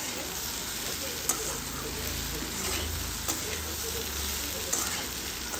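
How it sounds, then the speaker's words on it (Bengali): Okra frying in a pan sizzles steadily while being stirred, with a constant close hiss and a few soft scraping clinks of the utensil. "ভেন্ডিগুলো দেওয়ার পর আমি ভালো করে এটাকে এপাশ ওপাশ ভালো করে নাড়িয়ে চাড়িয়ে নেব যাতে নিচ থেকে না লেগে যায়"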